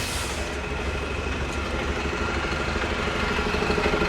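Heavy diesel bus engines rumble and idle close by as buses move along a street in Edinburgh, a steady low drone with no voices.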